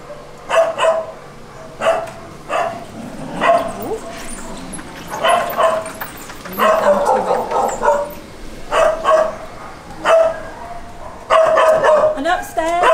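Dogs bark repeatedly in short bursts across a busy Soi Dog sanctuary shelter while vets treat animals, with a few yips and whimpers mixed in and people talking alongside.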